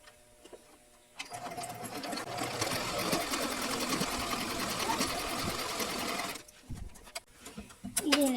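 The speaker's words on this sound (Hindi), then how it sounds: "बराबर करने के बाद अब यहाँ से फिर हम सिलाई लगा लेंगे" A sewing machine stitches elastic onto a readymade dress in one steady, close, loud run of about five seconds, with quieter handling sounds before and after.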